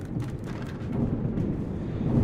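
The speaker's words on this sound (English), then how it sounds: "Try to talk over the thunderstorm." Thunderstorm in the video game Forest Village, a loud continuous low rumble of thunder with rain noise, steady and unbroken over the short stretch.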